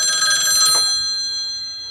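A telephone bell rings loudly in a burst in the horror film Black Christmas, its bright metallic trill cutting off and fading into a lingering tail.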